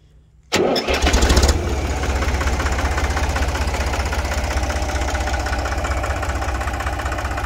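An old, heavily used Deutz D 4506 tractor diesel engine cranks briefly, catches quickly and settles into a loud, steady idle with a rapid rhythmic chug, recorded close up with no talking.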